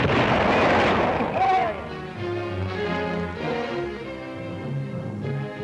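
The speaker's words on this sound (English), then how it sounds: "The first firing is a test rocket." A model test rocket fires at an outdoor proving ground with a loud, sharp roaring burst that fades over a couple of seconds into a rumbling tail, with people talking over it afterward.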